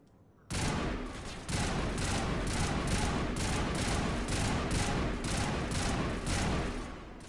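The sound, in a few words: gunfire from a gun in a video game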